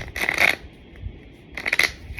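Tarot cards riffled in two quick, crisp shuffles close to the listener, with a brief quiet gap between them.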